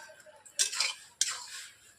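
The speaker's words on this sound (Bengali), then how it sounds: "এখন আমি ঢাকনা খুলে নিচ্ছি" A metal lid is lifted off a pot of boiling Malabar spinach stems, with two sharp clinks of metal followed by a hissy rush of steam and bubbling, close and fairly quiet, no talking.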